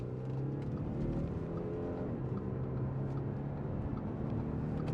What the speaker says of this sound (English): that sounds pretty awesome for a diesel engine too.